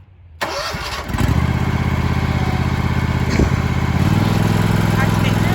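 A Gravely ZT HD Pro Turn 22.0 zero-turn mower engine cranks and catches after a brief near-silent start, then settles into a loud, steady chugging idle that rises slightly near the end, with talking present.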